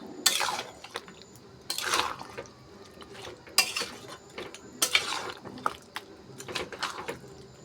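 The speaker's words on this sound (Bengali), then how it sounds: "আবার 10 মিনিটের জন্য নাড়িয়ে চাড়িয়ে আবার 10 মিনিটের জন্য ঢাকা দিয়ে দেব" Chicken curry with potatoes stirred in a pot, repeated scraping strokes of a utensil against the metal with wet, clattering bursts roughly every second and a half, close and moderately quiet.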